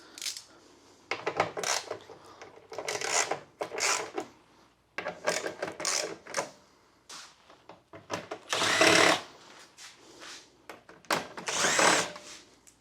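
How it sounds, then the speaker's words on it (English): A power tool with a T40 bit unscrews bracket bolts for LED work lights on a Jeep Wrangler, giving short, fairly quiet buzzing bursts that start and stop repeatedly with brief pauses between. "we need to take a T40, unscrew those 2 bolts"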